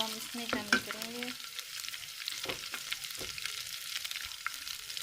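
Garlic frying in a pan gives a soft, fairly quiet crackling sizzle with a few spatula scrapes, following a brief tonal sound at the start.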